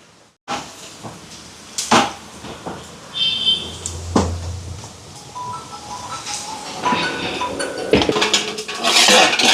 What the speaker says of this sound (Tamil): என் குழம்பை வந்து இங்கெல்லாம் கிண்ணத்துக்கு மாற்றுவோம்